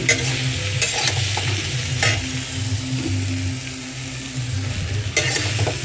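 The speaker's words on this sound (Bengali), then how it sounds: "আর সয়াবিন ভাজা হচ্ছে।" Potato and soybean chunks sizzling in hot oil in a home kitchen pan while being stirred, a steady frying hiss with scraping stir strokes and a few sharper clinks.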